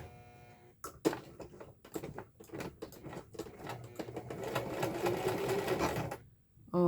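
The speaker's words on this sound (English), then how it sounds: "Just a couple of back stitches." Sewing machine running in short bursts of back stitches, then a longer steady run of stitching through fabric, close and clear with brief pauses between bursts.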